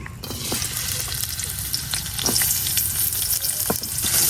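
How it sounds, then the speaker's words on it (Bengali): Chopped onion frying in a little oil in a wok, a dense, loud, continuous sizzle with faint stirring clicks, heard up close and without voices. "পেঁয়াজটা লাল লাল হওয়া পর্যন্ত ভাজলাম।"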